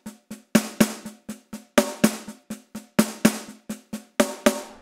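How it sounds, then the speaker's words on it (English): Snare drum fill played as a paradiddle with an extra note at the end, crisp stick hits in repeating accented groups of five with rising and falling dynamics, close and dry, with no talking. "It's like a paradiddle with an extra note at the end."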